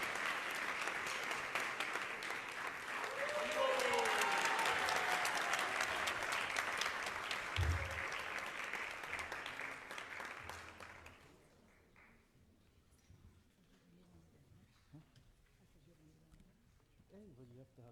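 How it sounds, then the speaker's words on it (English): A crowd at a temple fundraiser in New York applauds steadily for around ten seconds, then the clapping dies away into a quiet room. "Please give them a round of applause."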